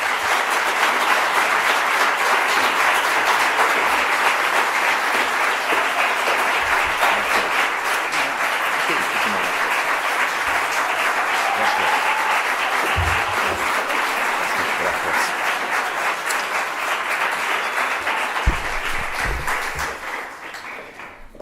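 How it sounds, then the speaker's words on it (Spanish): Sustained, loud applause from an audience at an award presentation during a social work ceremony in Aragón, a thick wash of many hands clapping evenly for about twenty seconds before thinning at the end. "Un aplauso a los dos, por favor."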